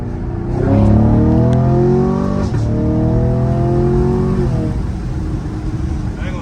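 A Camaro SS engine revs up nearby, rising in pitch through the gears with a shift partway, then easing off.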